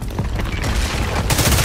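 A building collapses amid explosions in The Division 2, a loud, dense rumble of booms and crashing debris that surges and keeps going throughout.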